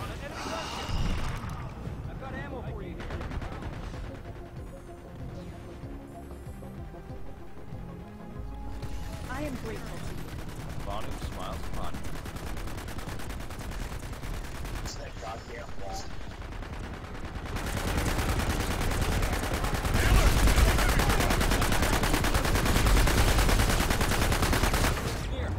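Dense automatic gunfire and rapid shots from the PlanetSide 2 video game run almost continuously, swelling louder toward the end, with players talking over the shooting.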